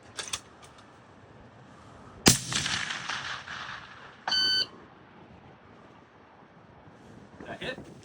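Gunshot at a private shooting lesson aimed at steel silhouette targets, one sharp loud report followed by a ringing tail, then an electronic beep and faint background talk.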